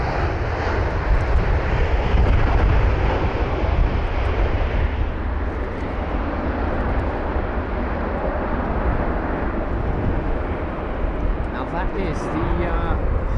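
A Turkmenistan Airlines Boeing 777-200 long range jet from Ashgabat passes at London Heathrow with a loud, steady engine roar that fills the whole stretch, rumbling continuously and close by without fading.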